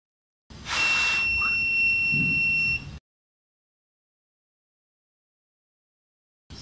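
A shrill electronic buzzer from a pollution-sensor alarm sounds steadily for a couple of seconds, then cuts off abruptly into silence before another brief burst begins at the very end.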